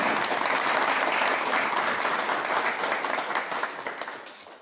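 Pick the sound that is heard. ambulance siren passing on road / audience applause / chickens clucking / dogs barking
audience applause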